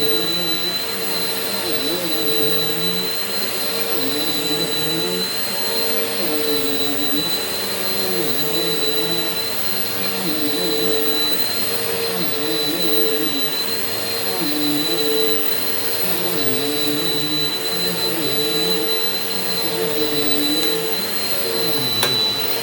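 A Dyson DC25 upright vacuum cleaner runs steadily and loudly throughout, a constant whining motor drone with a high tonal whistle and slight rhythmic fluctuation as it passes over the floor.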